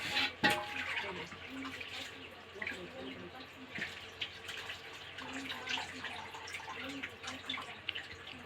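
Boiled chowmein noodles being strained in a large basket, with water pouring and splashing steadily throughout and a sharper splash near the start, with a voice talking faintly underneath.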